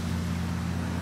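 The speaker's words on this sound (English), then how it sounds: "I apologize for the wind" Wind buffets a microphone outdoors at a shooting range, making a steady low rumbling roar that lasts about a second with no shots or voices.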